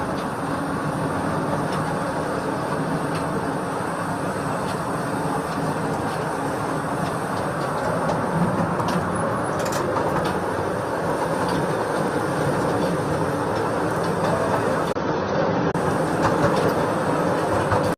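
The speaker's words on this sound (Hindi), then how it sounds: "इस तरह की व्यवस्था जो टॉय ट्रेन कहते हैं, भारत की कई म्यूजियम्स में है" A toy train ride at a children's nutrition park in Kevadia, Gujarat, rolling along with a continuous rumble and faint rhythmic clacking of wheels, steady and fairly close, with no talk.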